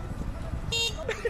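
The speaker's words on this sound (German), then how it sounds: "Er versucht schneller zu fahren und hupt aus Versehen" A scooter horn honks once by accident, a short bright toot partway through. Road and engine rumble sit underneath.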